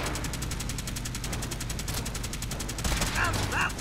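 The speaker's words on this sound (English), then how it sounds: "How are you shooting through the wall?" Rapid gunfire from a firefight in the Fallout 4 video game, a dense, steady burst of repeated shots filling the whole stretch, growing louder near the end, with a voice briefly underneath.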